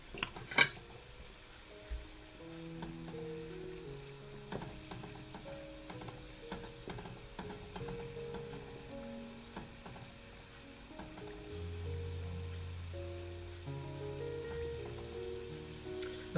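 Barquillos, an Easter sweet, frying in hot oil at about 180 degrees over medium-low heat, a steady soft sizzle and bubbling throughout with occasional utensil clinks, fairly quiet and without talk.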